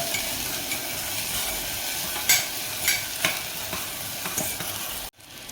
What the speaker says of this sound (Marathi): एक पाच मिनटं तरी तेल सुटेपर्यंत हे वाटण आपल्याला चांगलं असं परतवून घ्यायचं